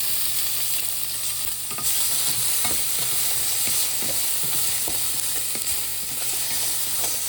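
Mixed vegetables such as peppers stir-frying for japchae in a loud, steady sizzle, with repeated clacks and scrapes of a utensil against the pan throughout; no talking.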